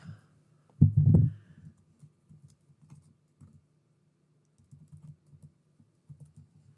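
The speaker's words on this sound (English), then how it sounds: "did I just type that? Yep. I can't type." A short burst of typing on a computer keyboard, with a few quick clustered keystrokes near the start and scattered soft taps after, fairly faint and alone.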